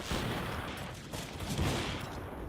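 Dense, sustained rifle fire in a professional CS:GO match between FaZe and BIG, a continuous crackling barrage heard at moderate distance with no talking.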